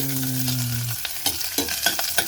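Ginger hits a hot pan for malunggay soup with a short hum at first, then crackles and spits in a few quick pops as it is stirred, close by.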